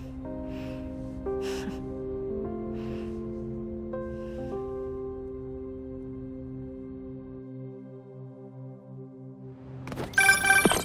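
A phone rings in Marvel's Spider-Man 2 on PS5 as a steady electronic ringtone with layered sustained tones lasting several seconds, ending in a brief louder burst of noise, with no speech.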